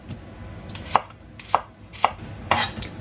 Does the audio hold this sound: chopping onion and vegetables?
yes